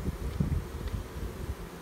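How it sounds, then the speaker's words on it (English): Honey bees in a full nuc box of Western-size frames give off a low, steady hum with small swells, close by and alone, with no talk. "this box of bees here"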